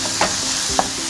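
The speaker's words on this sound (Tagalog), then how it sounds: "Laglag natin ng ginayat na sibuyas." Sliced onions go into hot oil with garlic in a pan and sizzle with a steady close hiss, broken by two quick clinks of stirring.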